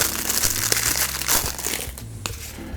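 Linen-finish paper card envelopes from the Mysthea board game being handled, giving a steady close crinkling and rustling with a few sharper crackles throughout, no talking.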